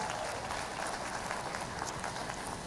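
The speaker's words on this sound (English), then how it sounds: "that deserves a round of applause" Crowd applause at a college commencement ceremony, a continuous wash of many hands clapping at even loudness throughout, slightly distant.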